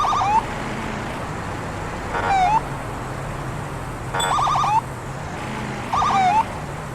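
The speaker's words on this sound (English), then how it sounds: "Let's see if they'll obey my siren." A police car siren in a video game, sounding in four short repeated bursts of rising electronic wails over a steady low engine hum, moderately loud and without talk.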